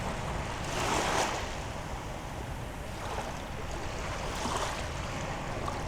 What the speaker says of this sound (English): Gentle waves flapping in.